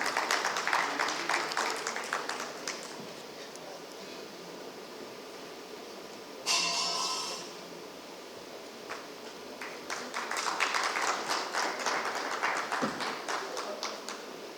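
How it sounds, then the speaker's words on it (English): Audience applause at a TiECON Chandigarh stage event rises and falls in dense, steady clapping across the stretch, fairly distant and filling the hall, with a brief brighter burst midway. "Let us have a big round of applause."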